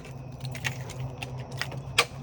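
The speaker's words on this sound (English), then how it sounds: "I just dropped my car keys" Car keys dropped on the ground outdoors at a tent campsite give a few sharp, light metallic jangles and clinks scattered across the moment, with the loudest clink near the end over a low steady hum.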